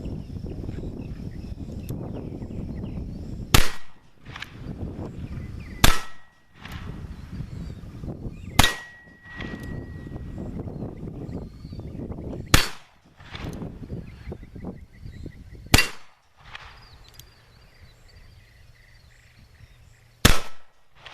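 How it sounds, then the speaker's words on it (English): 1858 Remington black powder revolver firing percussion caps outdoors, six sharp, loud pops spaced a few seconds apart over steady background noise. "going to bust 6 caps, because you have to put caps on these guns to have the initial spark to set that black powder off"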